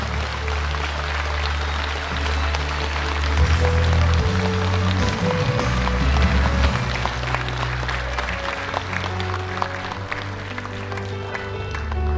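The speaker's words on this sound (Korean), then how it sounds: "두 분께 큰 박수 부탁드립니다." Audience applause at the retirement ceremony of a county governor in Geumsan, steady clapping that runs the full length at moderate level and swells slightly midway, with music or tones underneath.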